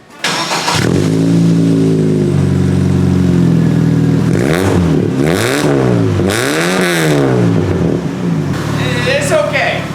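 A Chevrolet S-10 pickup truck engine revs hard and close, the pitch surging up and down in repeated swells over a steady mechanical rumble.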